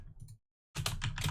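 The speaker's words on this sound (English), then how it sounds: "It's a mechanical keyboard." Rapid clatter of keys on a loud mechanical keyboard, close and busy, with a short silent gap partway through before the typing resumes more intensely.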